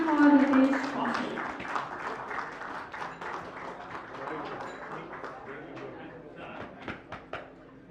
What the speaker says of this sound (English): Big round of applause everyone for Ritesh Kaushik.